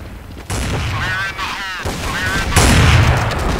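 Bursts of gunfire in a first-person shooter video game crack out in loud clusters, with rapid shots and a heavier blast near the end, while a player's voice talks and exclaims underneath.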